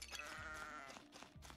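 A sheep in the indie PC game Lila's Sky Ark bleats in a long wavering call, with a second shorter bleat near the end, clear and close with no talking.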